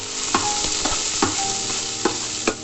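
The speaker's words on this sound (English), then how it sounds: "Now the oil is hot enough, and then we start dropping in the chopped beans that we have kept aside." Chopped beans and carrots frying in hot oil for egg Maggi noodles, a steady close sizzle punctuated by about six rhythmic scraping stirs of a spatula against the pan.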